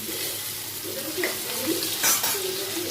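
A spoon stirs a cooking pot of food seasoned with turmeric and salt in a little oil, scraping and swishing over a continuous soft sizzle, close and fairly loud.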